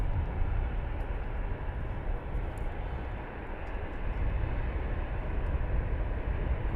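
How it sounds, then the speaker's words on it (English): An EasyJet airliner spools up its engines after pushback at Luton Airport, giving a continuous low rumbling roar with a faint higher whine at moderate distance. "We've got an EasyJet now just pushed back and start up."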